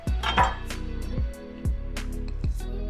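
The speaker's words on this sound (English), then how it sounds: "I'll just finish this last potato right here, cutting them into wedges." A knife chops through raw potatoes on a cutting board, cutting them into wedges: roughly six sharp, distinct chops in an irregular rhythm, close and fairly loud, with a faint ringing of the board between strikes and no talking.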